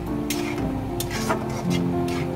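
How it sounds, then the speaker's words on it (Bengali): Onions frying with chicken meat in a pan, a soft steady sizzle broken by a few short scraping stirs of a utensil, close by with a low hum underneath and no voices. "আমি গোশটের সাথে পেঁয়াজটাকে ভেজে নেব।"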